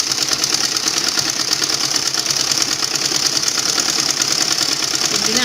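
A sewing machine stitching a blouse runs continuously at a fast, even whirring clatter, loud and close throughout with no pauses or speech.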